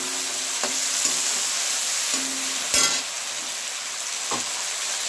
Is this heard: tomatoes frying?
yes